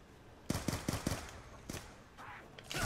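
Pistol shots in Call of Duty Zombies on the Origins map: a quick run of four sharp cracks, then a couple of scattered single shots, fairly close but moderate in level, with no talk over them.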